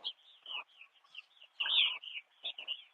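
Several birds give short, repeated chirping calls at a fishing dock, with irregular bursts and brief pauses between them, fairly close and clear over a quiet background with no talking.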